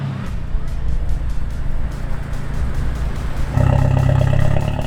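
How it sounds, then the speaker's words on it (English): Audi car on the road at a DSM and Evo drag racing event, rumbling past close by in a steady engine roar that swells louder near the end. "Oh, here comes the Audi."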